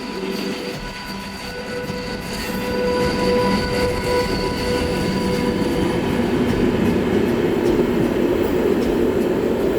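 A train pulls into a station, its steady rolling rumble and faint wheel squeal building loudly and continuing throughout, with no talking.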